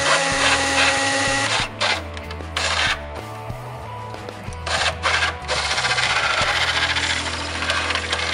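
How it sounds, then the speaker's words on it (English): A power drill runs loud and steady while drilling anchor holes in a wall for a 200 amp electric meter base. The motor drones continuously with short dips and changes in pitch as the bit bites. "Now Randy's drilling out the wall holes"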